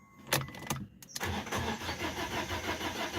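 A Fiat 500 with a misfire starting fault cranks in a few short bursts, then catches into a rough, pulsing engine run; close and fairly loud, with no talk.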